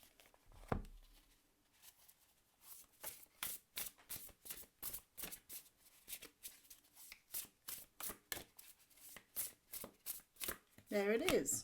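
A deck of Shaman's Oracle cards is shuffled close up, a long run of rapid, evenly paced riffling flicks, with a voice briefly heard at the end.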